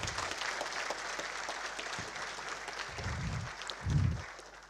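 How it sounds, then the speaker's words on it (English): Moderate applause from a network operators' conference audience for the event sponsor, an even patter of clapping in a hall with a couple of low thumps near the end as it fades out. "please give a round of applause"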